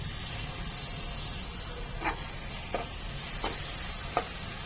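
Yogurt is added bit by bit to frying masala for chicken bhuna masala, a soft steady sizzle and hiss with four spaced spoon scrapes and taps as it is stirred, close by.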